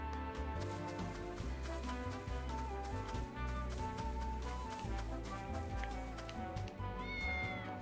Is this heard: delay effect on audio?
no